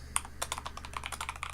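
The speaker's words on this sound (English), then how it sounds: "I'm just going to type it out as page down." Rapid typing on a computer keyboard, a close, quick run of light key clicks over a low steady hum.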